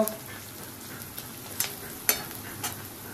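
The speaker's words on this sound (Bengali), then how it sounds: "তাকে একটু ফ্রাই করে নিই আমি ভেজিটেবলসগুলো" Vegetables fry in a kadai with a quiet hiss and a few sharp clicks of a utensil scraping and stirring, no talking.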